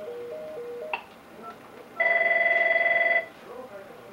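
An Avaya IP Office desk telephone rings with one steady electronic trill lasting just over a second, loud and close, between short electronic beeps and quiet moments.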